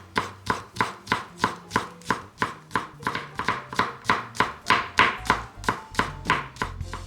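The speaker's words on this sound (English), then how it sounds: "Mince the garlic." A knife minces garlic on a cutting board in fast, steady chops, about three strikes per second, each one a crisp near knock with no voices.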